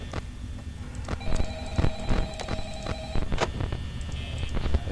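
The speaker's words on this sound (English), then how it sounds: "Yay, that lovely phone call." A telephone rings with a thin, repeating electronic tone in the Five Nights at Freddy's video game, set against steady background hum and scattered clicks and clunks.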